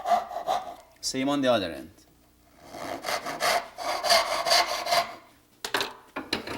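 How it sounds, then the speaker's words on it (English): Hand saw cutting wood down a marking gauge line at a board's corner, a short rhythmic rasping burst of strokes between stretches of someone talking close by. "Start on a backstroke, cut down on the marking gauge line."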